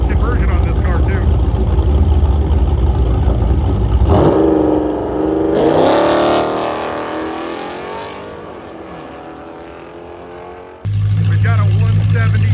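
Modified Dodge Hellcat and Scat Pack muscle cars at a Mopar drag race event, loud engines roaring and revving with a rising launch sweep as they pull away, then fading with distance before a close idle rumble returns.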